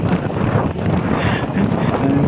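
Cold mountain wind at a campsite in Tanay, Rizal, buffets the microphone in a loud, continuous roar with rumbling gusts and no pause.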